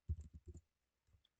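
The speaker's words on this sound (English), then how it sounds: "on your keyboard, you're going to press Control plus Shift" Computer keyboard keys pressed for a shortcut: a quick cluster of soft, close clicks, a pause, then a couple more faint taps, quiet and with no talk.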